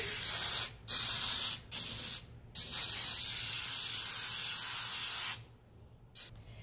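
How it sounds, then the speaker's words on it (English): Baker's Joy baking spray hisses from an aerosol can into a cake pan in several bursts, short at first then one long continuous spray, close and steady. "We're going to spray the pan with some Baker's Joy."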